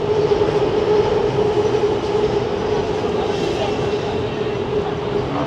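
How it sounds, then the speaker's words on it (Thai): A train rumbles past continuously with a steady low roar and faint rail clatter, loud and close the whole time, no clear talk. "เบิ่งรถไฟมาแล้วรถไฟมาแล้ว"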